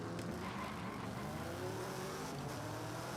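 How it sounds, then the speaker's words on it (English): Engine roar from an Aston Martin DBS and a Honda NSX drag racing in Forza Horizon 5, a steady loud revving drone with rising harmonics as the cars accelerate, continuous and close with no talk. "have a drag race between the two purple cars."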